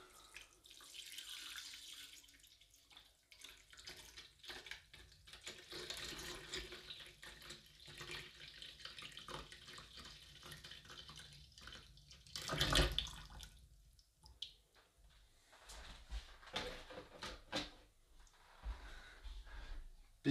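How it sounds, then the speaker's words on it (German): Water pours steadily from a tap into a plant pot while a poinsettia is being repotted, a continuous close splashing stream with brief breathy sounds and a louder burst partway through. "So, jetzt da mal da Wasser hinein."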